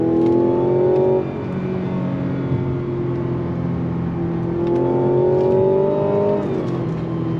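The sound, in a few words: Mazda CX-90 engine sound while driving through a bend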